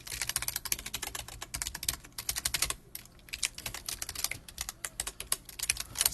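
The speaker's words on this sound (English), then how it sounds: "If you want the shell on Linux, Ubuntu, or like any other distribution, you type in Python 3 and here it goes." Rapid clicking of a computer keyboard as commands go into a terminal, quick bursts of keystrokes with brief pauses, close and fairly quiet, no speech.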